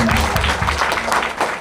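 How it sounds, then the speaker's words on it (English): A quick round of applause from a gathered audience at a business mastermind event, steady clapping with crowd murmur and some low background hum. "We all just make a quick round of applause."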